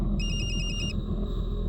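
A phone rings during an outgoing call attempt that fails to connect: a short run of evenly pulsed electronic ring tones over a low steady hum, then the ringing stops.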